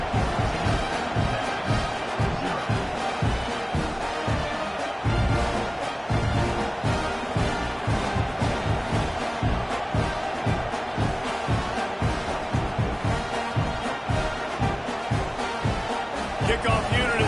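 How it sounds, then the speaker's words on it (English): A football stadium crowd cheers and roars steadily after a scoring drive, a dense, pulsing wash of noise beneath a commentator talking continuously. "this crowd is feeling themselves after that last drive"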